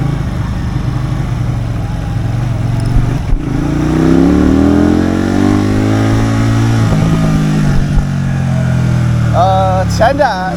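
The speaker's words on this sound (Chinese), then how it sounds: "双缸车的转速爬升还是可以的啊" Benda Greystone BD250 twin-cylinder motorcycle revving and accelerating on a road, engine pitch climbing smoothly through the gear under a steady loud drone, with a rider talking over it near the end.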